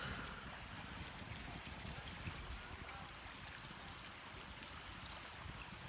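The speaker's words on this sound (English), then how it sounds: "You can hear the fire and bubbling of the creek." A creek bubbles and trickles in a continuous soft wash of running water beside a fire, steady and fairly faint, with no voices.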